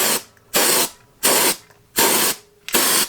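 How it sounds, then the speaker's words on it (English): Five loud, hissing bursts from a high-pressure zinc spray can in a steady rhythm, each lasting about a third of a second with short pauses between, while refurbishing a Land Rover radiator. "It's at a much higher pressure than spray cans normally are."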